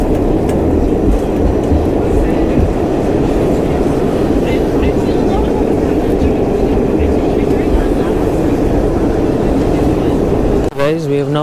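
New York subway train at the Times Square 42nd Street station, with a loud, steady rumble and rattle of the cars that drowns everything else out, then a brief screech as it ends.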